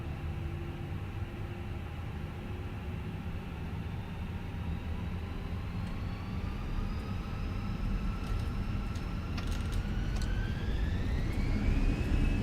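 Airbus A320 engines in Microsoft Flight Simulator spool up for takeoff: a steady, loud jet roar with whining tones that rise in pitch toward the end as thrust builds, with no talking.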